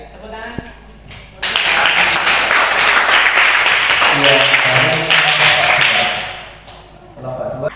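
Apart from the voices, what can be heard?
class applause for group 2's presentation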